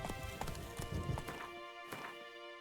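Roach the horse trotting in Witcher 3, a steady run of close hoof clip-clops across the whole stretch with a brief whinny-like tone woven in.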